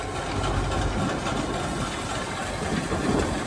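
A tractor engine runs at a steady idle in a farm field, a low, rough, continuous rumble with a faint knocking pulse, close and even throughout with no talk.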